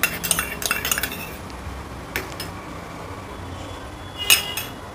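A tablespoon clinks against a bowl while yogurt is added to a potato mixture, a few close metallic taps and scrapes early on, then quieter stirring with one sharp clink near the end, no talk.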